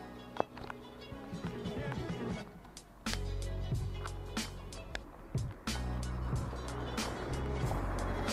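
An Alpine car passes at a roadside in Beaufort, Savoie, its engine rising and falling over several seconds with a steady motor roar, under light background noise and occasional bumps.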